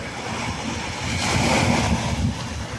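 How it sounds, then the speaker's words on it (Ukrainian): Sea waves wash in at the seaside, a broad, steady surf hiss swelling in the middle and mixed with wind buffeting the microphone; no one speaks. "Радіємо морю."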